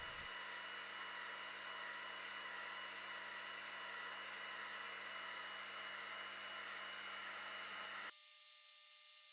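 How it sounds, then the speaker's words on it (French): xTool D1 Pro laser engraver running with its air assist at maximum, a steady hissing whir with a low mechanical hum that holds constant for several seconds before abruptly changing to a thinner tone. "Concernant le bruit du laser, ici j'ai mis le système d'air au maximum"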